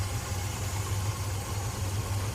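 A 426 Hemi V8 in a 1955 Chevrolet idles down steadily with a low, even rumble that pulses slightly, heard up close with no voices.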